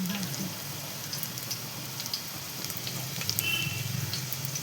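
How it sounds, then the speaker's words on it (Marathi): Something frying in a pan until golden for an Iranian dish, a soft, fairly faint sizzle running steadily with a few light pops and faint background murmur. "तळून घेऊयात."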